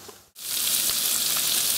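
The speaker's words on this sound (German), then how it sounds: "Und das brät jetzt mit den Zwiebeln noch gut an." Minced pork and beef frying with onions in a pan for spaghetti bolognese, a loud steady sizzle that bursts in after a brief gap and holds close and constant, with no talking.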